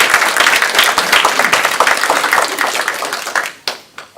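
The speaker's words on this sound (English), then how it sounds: "So let's give our panelists a round of applause." Applause from a conference audience for a panel on Rockingham County, dense steady clapping filling the room and then thinning out into a few scattered final claps.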